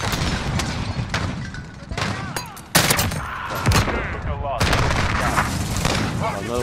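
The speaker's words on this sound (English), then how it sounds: "he's shooting from the arcade looking to the left" Enemy gunfire in Call of Duty Modern Warfare multiplayer: loud, irregular shots and bursts with sharp cracks and a heavy impact, heard under voice chat and game noise.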